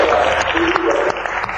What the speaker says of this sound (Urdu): آپ سب لوگ امریکہ میں کھڑے ہو کے تالی بجا رہے ہیں.